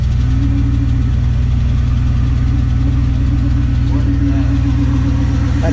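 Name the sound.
1977 Dodge Power Wagon W150 engine running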